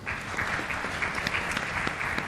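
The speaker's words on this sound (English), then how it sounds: "Please give them a round of applause." A lecture hall audience gives a round of applause for law students from the National Open University of Nigeria at an annual lecture. The clapping is steady and moderately distant and fills the whole short stretch.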